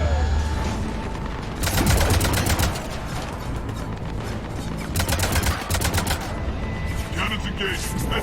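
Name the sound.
cannons firing in video game Mass Effect 3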